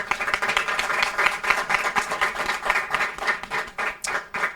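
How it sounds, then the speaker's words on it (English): Audience at a TV talk show claps as guests walk in, uneven bursts of hand claps with noticeable rhythmic peaks, fairly close and loud. "let's clap for them"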